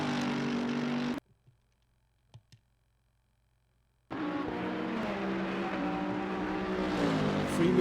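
A GT race car engine in the racing simulator Assetto Corsa Competizione howls through a lap, cut off by a few seconds of near silence before the steady, loud engine drone resumes and builds.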